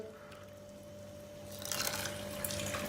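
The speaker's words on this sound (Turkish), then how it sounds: "1 su bardağı yeşil mercime 2 su bardağı su veriyoruz" Water pours onto green lentils in a pot, a faint, soft splashing trickle that starts partway through over a low steady hum, with no voices.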